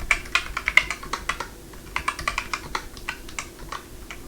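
Clattery keystrokes on a computer keyboard, tapped in uneven bursts of quick clicks with short pauses, close and fairly quiet, no voices.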